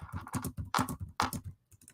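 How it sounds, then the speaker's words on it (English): Fingers typing on a computer keyboard nearby, a quick irregular run of light plastic key clicks with a few brief pauses, fairly quiet and with no voices over it. "I was typing in my address"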